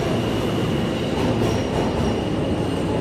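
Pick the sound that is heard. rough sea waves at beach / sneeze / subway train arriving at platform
subway train arriving at platform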